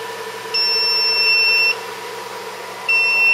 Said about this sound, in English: the chassis is going to let you know by horrible beeps and a red indicator on the front.